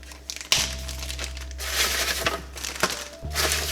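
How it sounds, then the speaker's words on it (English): Frozen homemade tortellini are dropped into a plastic bag, giving close, loud crinkling and rustling of plastic in bursts, with a steady hum underneath. "I'll put them all in the same plastic bag"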